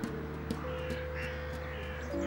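Crows caw in several short, sharp calls from some distance in a Paris botanical garden, set against a steady background hum.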